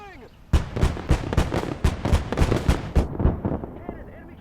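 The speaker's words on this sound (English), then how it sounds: "Cannon fire incoming!" Enemy cannon fire in the Gates of Hell war game: a rapid volley of about a dozen loud, sharp booms in quick irregular succession, close and punchy, with the barrage thinning toward the end.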